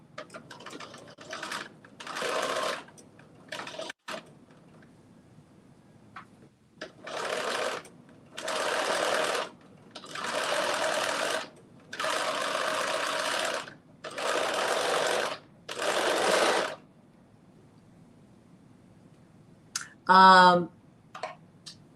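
A sewing machine stitches elastic into armbands in rapid whirring bursts of about one to two seconds, separated by quiet pauses, close by and alone, with one sharp click near the end.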